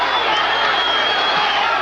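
Crowd at a boxing match between Victor Galindez and Jesse Burnette cheers in a loud, steady roar that fills the arena without a break, with dense whoops and clapping blended into the wall of noise.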